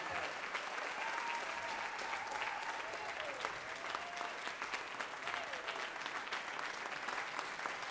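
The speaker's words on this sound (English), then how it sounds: "How about a round of applause for all the bands?" A concert audience applauds after a university jazz orchestra's performance, dense continuous clapping heard from within the hall, with a few faint whoops and a voice rising briefly above the crowd.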